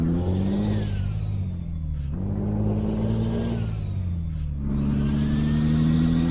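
A truck engine in Euro Truck Simulator 2 drones steadily and climbs in pitch through several gear changes, with brief air-release hisses between shifts, close and loud.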